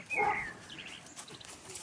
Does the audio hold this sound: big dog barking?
yes